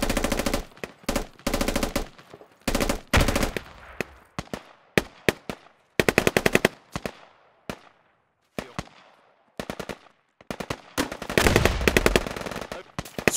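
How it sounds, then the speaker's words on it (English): Friendly gunfire in the video game Squad, in a forest setting: loud rapid machine-gun bursts and single shots in quick succession, close and sharp, without talk. "That's friendly shooting at us."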